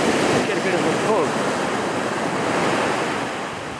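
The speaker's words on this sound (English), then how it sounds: "He's getting near the top of the tide, you can hear by the waves." Ocean waves breaking on a beach at night near high tide, a steady loud wash of surf with wind noise on the microphone, easing slightly toward the end.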